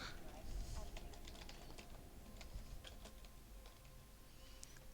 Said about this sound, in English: Was busy typing.